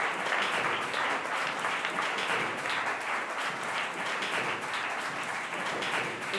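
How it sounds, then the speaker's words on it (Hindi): Applause for two students called to the stage at an Arya Veer Dal ceremony, steady crowd clapping at moderate distance, continuous and even throughout several seconds with no talk over it. "दोनों को लिए तालियां।"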